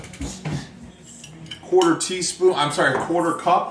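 A fork stirs egg and olive oil into a well of flour for homemade ravioli dough, giving soft clinks and scrapes against the bowl, followed by someone talking over the stirring.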